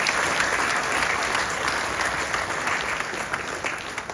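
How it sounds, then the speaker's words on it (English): A church congregation claps together at a memorial service, a dense, sustained wash of applause filling the hall at full strength. "Clap our hands one last time for her."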